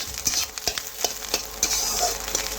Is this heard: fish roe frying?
yes